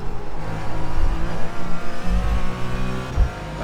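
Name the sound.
race car engine throttle stabs in iRacing video game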